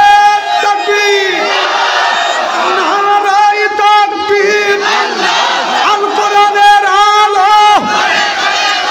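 A large crowd at an Islamic religious gathering roars the takbir chant back in unison, loud, sustained voices swelling in repeated rhythmic calls that fill the space without pause.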